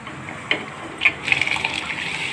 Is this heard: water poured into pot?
yes